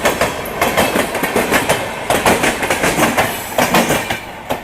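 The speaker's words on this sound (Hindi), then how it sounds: "यहाँ पे मुंबई तेजस राजधानी निजामुद्दीन को स्किप कर रही है" The Mumbai Tejas Rajdhani express passes close by, its wheels beating a loud, regular clickety-clack rhythm over rail joints as the coaches rush past without pause.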